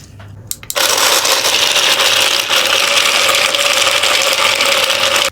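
Electric blender whirring as it blends a drink of full cream milk with a little water, starting abruptly after a second and running loud and steady to the end, with no talking.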